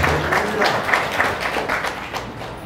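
A church congregation at a Sunday worship service claps in a steady, dense round of applause that carries on through the moment at moderate loudness, with a slight roomy echo.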